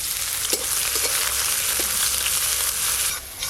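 Chopped onion with dried red chilli frying in mustard oil sizzles loudly and steadily up close, with a few light stirring scrapes early on before the crackle briefly drops near the end.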